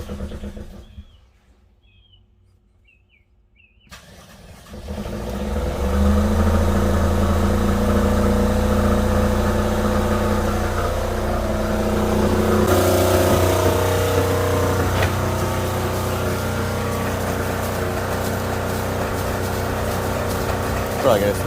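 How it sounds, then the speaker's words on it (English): A generator is quiet at first, then cranks and catches at about four seconds and settles into a steady, loud running drone close by, with a brief rise in pitch partway through. "Alright, the generator's running good."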